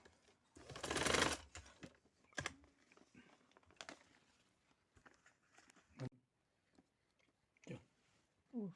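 A domestic sewing machine stitches fabric for a sleeve, neck and hem design, with one loud, close burst of rapid stitching early on, then quieter scattered clicks and handling noises.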